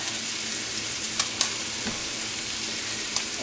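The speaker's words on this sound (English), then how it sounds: "4 tablespoons, half a stick of butter in that heavy skillet there, and had it just melted down" Half a stick of butter sizzles and fries steadily in a heavy skillet, a continuous close crackle with a few sharper pops.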